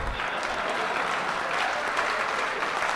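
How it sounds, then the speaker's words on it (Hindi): An audience at a Hindi poetry recital breaks into applause, dense continuous clapping from a large crowd filling the whole moment. "ताली बजा"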